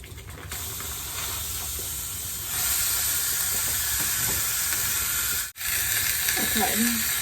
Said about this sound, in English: I'm gonna get started browning our beef. It's already ground, of course.